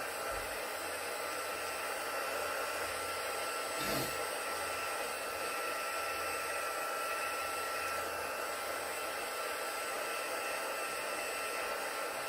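A hair dryer blows steadily and closely, drying a shaving foam technique card held in the hand, with a continuous even whir and one brief bump in the airflow.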